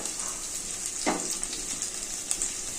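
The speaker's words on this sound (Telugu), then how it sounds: "ఎల్లిపాయలండి కొంచెం ఎర్రగా వేయించుకోవాలి" Onions fry in a pan for jeera rice, giving a steady bright sizzle throughout with one brief scraping stir near the middle, close and alone without talk.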